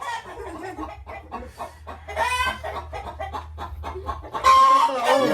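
Backyard chickens, some of them broody hens sitting on eggs, cluck continuously at close range, with a louder burst of agitated clucking near the end.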